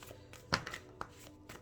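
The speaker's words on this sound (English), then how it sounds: "Let me make sure I have the deck right side up before I get to shuffling." A tarot card deck is shuffled close by, giving a few short, soft riffling and tapping bursts with brief gaps between them.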